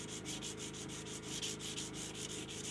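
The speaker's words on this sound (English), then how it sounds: "it deburrs, rolls, and polishes all in one fell swoop" A tool deburrs, rolls and polishes the fret ends on a guitar build with quiet, rapid back-and-forth rubbing strokes at an even rhythm, about four per second, and no talking.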